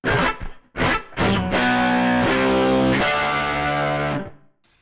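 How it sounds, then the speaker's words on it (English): Guitar played through a dynamic ambience reverb on a Helix Stadium XL: a few short strummed chords with gaps, then a sustained ringing chord with a lush, spacious wash that slowly fades out. "then we have some reverb. So another dynamic ambience."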